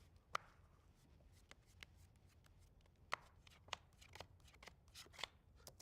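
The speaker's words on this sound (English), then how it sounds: "That's a false shuffle." False shuffle of a deck of playing cards, a close, quiet run of sharp riffling snaps and soft card slides in an irregular rhythm, heard alone.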